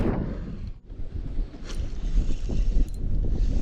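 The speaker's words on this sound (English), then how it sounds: "This wind is really howling. I apologize for the audio" Heavy wind buffets the microphone in loud, rumbling gusts while fishing, briefly dropping off before roaring back steadily with no voices.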